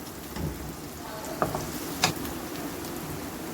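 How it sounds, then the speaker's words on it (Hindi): Onions fry in oil with garam masala, a soft, steady sizzle under two sharp spoon clinks against the pan, close and fairly quiet. "गरम मसाले को मैंने अच्छी तरह फ्राई कर लिया है। अब इसके अंदर प्याज डाल देंगे।"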